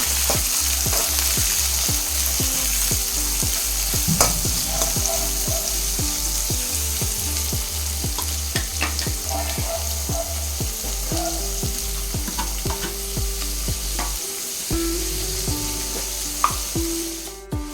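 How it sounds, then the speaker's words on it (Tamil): Steady sizzling of onions frying in a hot pan for idli upma, with occasional stirring scrapes, close and continuous with no voices. "வெங்காயம் நல்லா வணங்குதுங்க"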